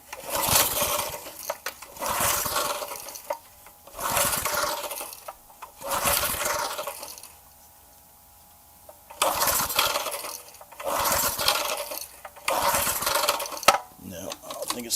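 Someone repeatedly tries to start a gas lawn edger, and each try brings a loud, rough burst of engine and cord noise lasting a second or two. The bursts come in a repeating pattern, with one longer quiet pause between them.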